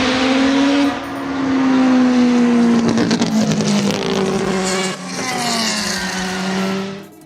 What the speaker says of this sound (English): the car just was the raw sound of a 4-rotor rotary engine running around this track